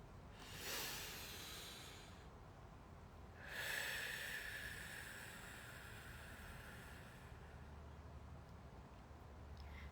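A deep breath drawn during a quantum energy healing session, two airy inhalation swells rising over a low steady hum, the second longer and fuller, close and soft with no talking.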